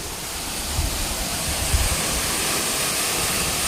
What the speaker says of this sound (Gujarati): ફૂલ એટલે ફૂલ ગરમ પાણી અત્યારે આવે છે.